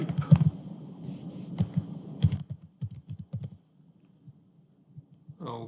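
Typing on a computer keyboard at a desk, a quick burst of close, crisp key clicks that slows into scattered separate taps and ends with one louder click, no talking.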